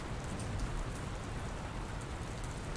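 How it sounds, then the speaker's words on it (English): Steady rain falls in the video game Dr. Langeskov, The Tiger, and The Terribly Cursed Emerald, a dense, even hiss of drops on surfaces that keeps the same level throughout with no voices. "I don't think it's supposed to still be raining"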